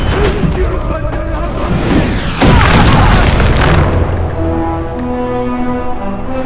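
Flaming projectiles fired in Prince of Persia: Forgotten Sands, a dense barrage of loud booms and bursting impacts that peaks midway, then settles under lingering game music, with talk over it.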